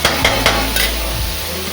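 Chopped onions fry in a pan over a lowered gas flame as they turn light pink, a steady close sizzle broken by a few sharp scraping strokes of stirring near the start.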